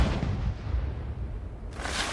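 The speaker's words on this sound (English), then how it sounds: "You can actually still hear the firecrackers going off, too." Fireworks and firecrackers go off at night in China, heavy booming blasts that roll and rumble together, loud and close, with a sharp burst near the end.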